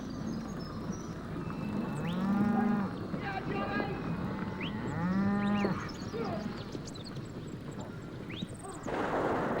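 Cattle low in repeated drawn-out moos, some near and some farther off, as a drover works livestock across open country, with a narrating voice over the herd.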